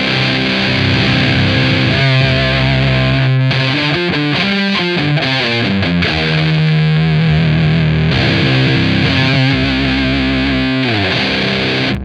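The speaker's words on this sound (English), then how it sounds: "Once we press and hold the left foot switch, we're ramping the amplitude or the volume of the parasite control all the way up to where it's set." A Beetronics Zzombee Filtremulator pedal plays a heavily distorted, effected guitar tone as its parasite control swells up in volume, with warbling filtered chords sustaining loudly and continuously.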